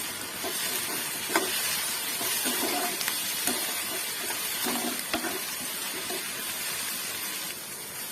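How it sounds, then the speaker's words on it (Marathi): Ginger, garlic and coriander paste frying in oil, a close, continuous sizzle and hiss with soft scraping stirs at a slow, irregular rhythm, no voice over it. "आता याच्यामध्ये मी थोडीशी अद्रक लसूण आणि कोथिंबीरची पेस्ट टाकून घेत आहे तीही तेलामध्ये छान फ्राय करून घेऊया"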